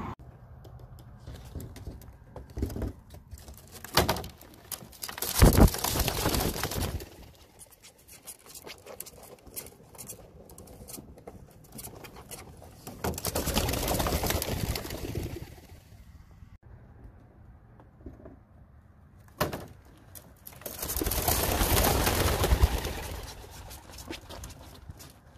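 Released pet pigeons beat their wings in several loud flapping bursts, separated by quieter stretches of soft cooing and light pattering around them.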